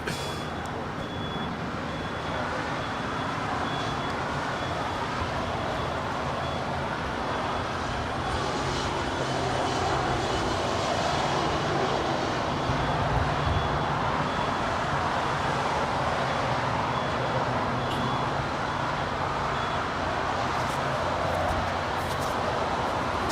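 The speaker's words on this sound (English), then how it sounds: "There on the north side, we have Air New Zealand coming in from Auckland. It's a Boeing 787-9 Dreamliner Flight 6." Air New Zealand Boeing 787-9 Dreamliner landing at Los Angeles International Airport, a steady broad jet roar holding at a constant level throughout, with no voices.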